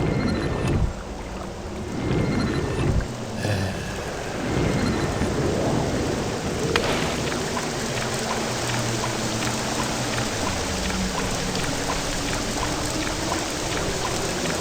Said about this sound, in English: Sounds like a storm is coming on, actually.